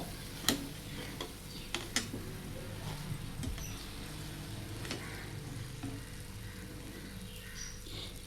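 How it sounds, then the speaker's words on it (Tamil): Jalebis being stirred into cooled sugar syrup, a soft continuous wet swishing with occasional small ticks and clicks, close but quiet. "ஜிலேபியை சேர்த்துட்டு கிட்டத்தட்ட ஒரு டென் மினிட்ஸ் கலந்து நல்லா ஊதி வந்துடுங்க"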